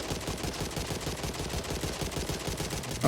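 A Glock pistol fires in the zombie shooter Back 4 Blood as a rapid, continuous string of punchy game gunshots with no pauses between them.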